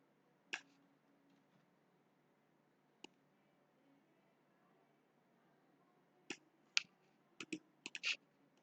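Faint computer mouse clicks while dragging shapes in design software, a few scattered single clicks followed by a quick cluster near the end, in a quiet room with no talking.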